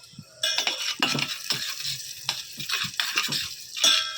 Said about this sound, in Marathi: तुपामध्ये असे भाजून घेते.